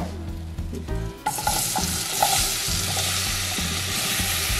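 Apples dropped into a hot pan with melted fat over medium heat, a sudden loud sizzle that swells into a steady frying hiss as the pieces are stirred, close and continuous with no talking.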